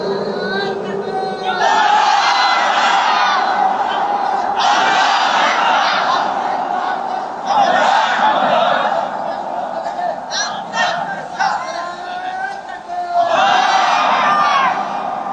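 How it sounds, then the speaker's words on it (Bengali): A large crowd at a Bengali religious sermon gathering shouts the takbir in loud unison, repeated roaring calls of several seconds each with brief gaps between them, heard up close and filling the space. "এবার একজন তাকবীর দিবেন মাঝখান থেকে"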